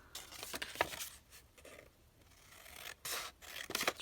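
Scissors snip through folded material for a slow-stitch house box, trimming a square into two triangles: several crisp, close cutting strokes in short bursts, separated by quieter rustling of the material.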